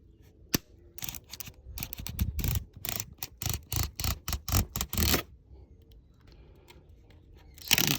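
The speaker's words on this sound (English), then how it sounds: "this stuff is really easy to cut. Basically, with just a utility blade." A utility blade slices through greenhouse roofing material in a quick series of short, quiet scraping and tearing strokes, with a sharp snap near the start, a pause, then another stroke at the end.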